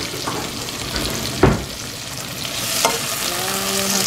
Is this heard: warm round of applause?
no